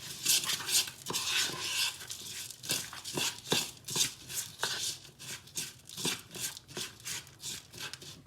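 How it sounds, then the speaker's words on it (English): Panko breadcrumbs, freshly grated parmesan and garlic powder get stirred together in a bowl, giving a rhythmic run of soft scraping and clinking utensil strokes, fairly quiet and close, with no voices. "We're going to mix all this together."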